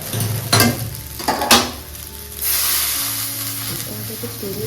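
Chow mein stir-fried in a pan with a spatula: loud close scrapes and clatters over a steady sizzle, with a bright hiss swelling partway through and a low hum underneath.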